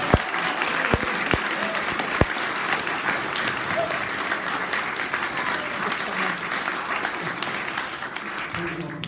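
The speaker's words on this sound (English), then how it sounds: "please get a round of applause for Major Browne" Sustained applause from an audience fills the room, steady and dense throughout, with a few sharper claps standing out at the start.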